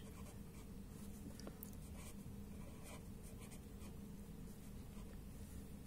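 Pen writing on paper during a fourth-grade maths lesson, a faint continuous scratching with soft strokes, close and quiet, alone with no talk.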